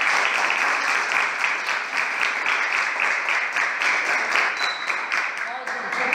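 Sustained audience applause at an event at the Caucaia Botanical Park in Ceará, a steady, dense wash of clapping at even loudness throughout, fairly close and without clear speech.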